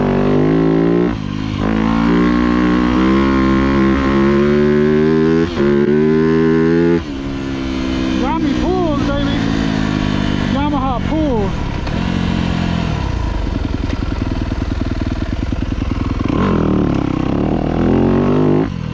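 Yamaha YZ250F motocross bike being ridden, loud close engine revving that rises and falls through gear changes and throttle blips, with a brief voice heard over the engine.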